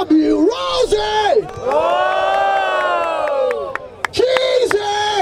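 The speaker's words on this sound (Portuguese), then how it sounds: "Barulho para as rimas do Milhouse!" A crowd at a Brazilian freestyle rap battle final in Barueri, SP, roaring and cheering loudly with whoops and shouts, with an emcee's amplified voice calling out over them at the start and end.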